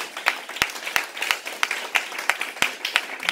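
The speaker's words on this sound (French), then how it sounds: "Acclame Jésus pour sa parole." A church congregation claps in a quick, steady rhythm, a dense run of sharp hand claps filling a worship hall at moderate loudness.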